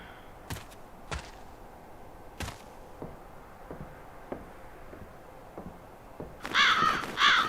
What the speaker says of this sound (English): Okay, the birds just spawn there.